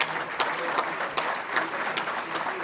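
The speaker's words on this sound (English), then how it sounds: "give them a round of applause" Audience at a State of the County event giving officials a round of applause, loud sustained clapping from a large crowd with a few sharper claps standing out.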